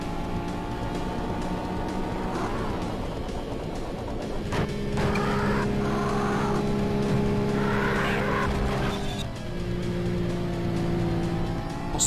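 In the Need for Speed racing game a race car spins out, with a steady engine drone giving way to screeching tire squeals and skidding, then the engine revs back up.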